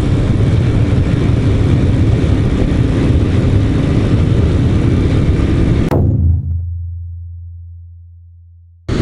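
Loud, steady wind and road roar inside a Shoei Glamster motorcycle helmet at 100 km/h. It cuts off abruptly near the end, leaving a low fading hum.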